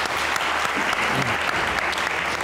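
Applause from a television studio audience on a comedy talk show, a continuous full round of clapping that stays loud and even from start to finish.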